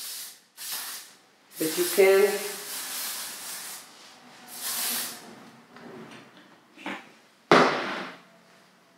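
Spray bursts hiss onto a standard poodle's coat during grooming for a continental clip, several short sprays spaced apart while someone talks between them.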